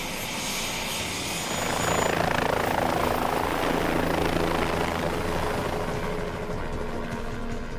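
A helicopter roars steadily and loudly throughout, its rotor thumping under a broad engine whine that swells slightly midway, heard from inside the metal cabin over an active volcano.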